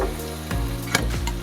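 Pumpkin pieces and drumsticks sizzling in hot oil for Kerala-style varutharacha sambar, a steady close frying hiss with a few stirring clinks, no talking.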